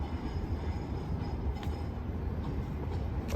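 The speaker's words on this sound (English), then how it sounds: "the Carlingford bound tram, which is now slowly pulling into the platform" Parramatta Light Rail tram on test running, slowly pulling into a Carlingford-bound platform, its low steady rumble of wheels on rail with faint high squeals and clicks, close by with no talking.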